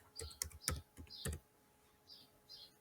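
A command being typed on a computer keyboard in AutoCAD, a quick cluster of close, crisp key clicks followed by a couple of faint taps, with no talking.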